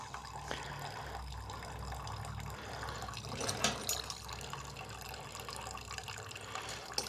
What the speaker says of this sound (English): I'm going to let the fresh fuel flush out this yellow garbage.